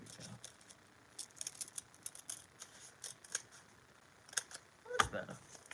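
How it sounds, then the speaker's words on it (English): Scissors snipping paper for an art journal page, a series of short crisp cuts in quick clusters, fairly close, with a louder clack near the end. "Why don't I just use scissors?"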